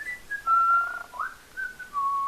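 A person whistling a short, wavering tune to imitate a spirit's whistle: a few clear, near, sliding notes in a quiet room, with no talking.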